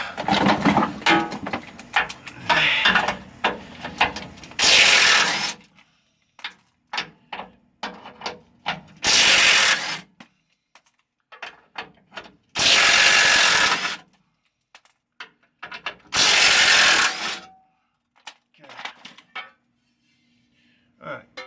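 Ratchet working bolts loose under a 2013 GMC Sierra 1500 pickup, bursts of rapid metallic clicking several seconds long alternating with clanks, handling noises and quiet gaps, close by.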